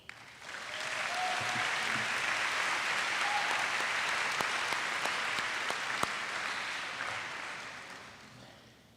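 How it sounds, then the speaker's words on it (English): An audience at an upper school awards ceremony claps for a student, with steady applause that swells quickly, holds for several seconds, then tapers off. "Feel free to applaud as each student's name is called."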